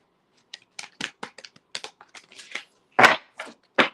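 Tarot cards being shuffled by hand in a series of crisp, quick riffling and slapping bursts, irregular in rhythm, with a few louder snaps near the end.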